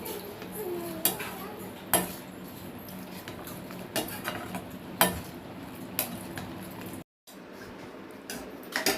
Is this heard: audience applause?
no